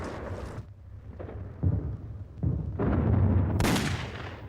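Bombs exploding across Clark Field airfield in the Philippines during a World War II preemptive air raid on lined-up US aircraft, heard as a series of deep, rumbling blasts, several loud bursts swelling and fading one after another.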